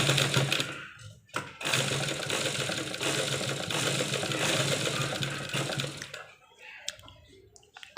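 A sewing machine stitches a zip into the side of a blouse, running in a continuous fast whirring burst of about five seconds, then stopping, with brief quieter handling sounds around it.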